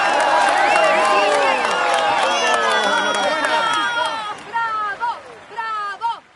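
A stadium-style crowd in the Tour de France 2017 cycling game cheers and applauds at a stage finish, a loud dense roar with whistles that thins into separate bursts near the end.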